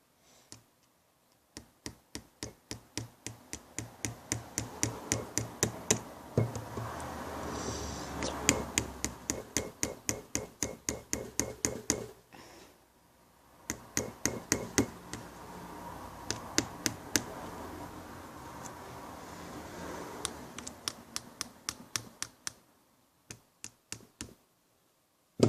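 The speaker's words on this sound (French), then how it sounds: "maintenant on prend le marteau." Hammer blows at a hole being worked, struck in steady rhythmic runs of sharp taps that pause briefly between bursts, fairly quiet and close.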